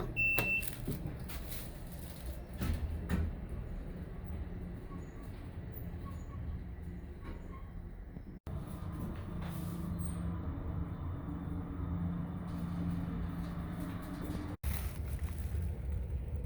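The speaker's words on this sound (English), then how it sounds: "Trains." Low rumbling subway train noise with a steady mechanical roar, rising and holding through the clip, with a faint voice briefly in the background.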